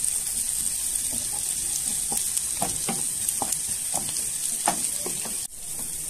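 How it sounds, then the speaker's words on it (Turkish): Onions and peppers frying in a pan are stirred with a utensil, giving a steady soft sizzle with a series of light scraping and clinking strokes near the end. "Şöyle güzelce karıştıralım."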